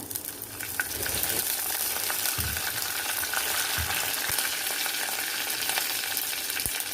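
Mustard and cumin seeds crackling and sizzling in hot oil for sambar, a loud continuous frying hiss with occasional pops and stirring knocks, close by.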